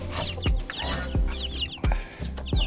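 Ten-day-old chicks cheep by the coop door in quick high bursts, close and lively, while a few soft low thumps sound beneath them.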